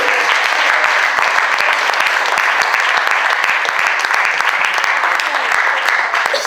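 A church congregation applauds at an Assemblies of God service, producing a dense, loud, continuous wash of clapping that stays steady throughout without any voices on top.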